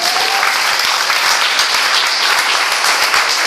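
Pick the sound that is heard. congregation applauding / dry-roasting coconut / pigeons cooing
congregation applauding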